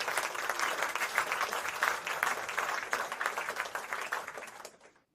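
A small crowd gives steady, dense applause, clapping continuously at an even level before stopping abruptly near the end.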